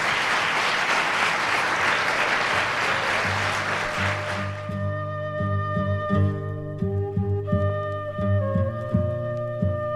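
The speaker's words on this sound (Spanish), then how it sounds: "te has merecido el aplauso" Podcast audience applause, a dense wash of clapping for about four seconds before fading out into background music.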